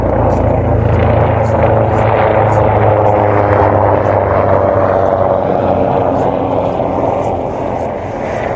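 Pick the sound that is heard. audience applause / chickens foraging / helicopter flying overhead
helicopter flying overhead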